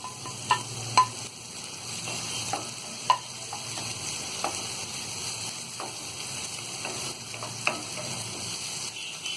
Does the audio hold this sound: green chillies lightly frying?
yes